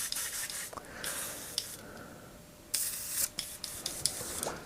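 Short hissing spray bursts, broadband and airy, start and stop several times in a quiet room, with faint scraping between them.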